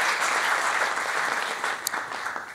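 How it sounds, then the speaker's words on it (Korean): An audience at a military chaplaincy seminar applauds to welcome a professor, a dense, even wash of clapping that holds steady and tapers slightly near the end, with no speech over it. "다시 한번 여러분 큰 박수로 교수님 맞이해 주시면 감사하겠습니다"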